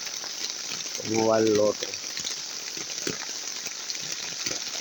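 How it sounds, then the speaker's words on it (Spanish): Heavy downpour drumming on a young maize field, a dense steady hiss of rain filling the whole clip, with someone speaking briefly over it. "vean qué fuerte aguacero está pegando hoy"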